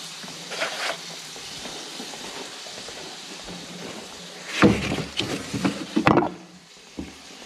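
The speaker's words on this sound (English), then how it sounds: "Good, and I can hear a sizzle." Eggs frying in a pan give a soft, steady crackling sizzle at low volume, with a few louder clattering bursts toward the end.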